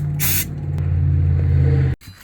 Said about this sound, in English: I use brake parts cleaner to clean the new rotor.